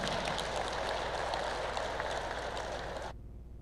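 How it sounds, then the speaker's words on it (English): Resounding applause from a distinguished gathering at a summit, honouring His Excellency, a dense, steady wash of many hands clapping close by that continues evenly for about three seconds, then cuts off abruptly into near silence. "Let us acknowledge His Excellency's efforts with a resounding round of applause"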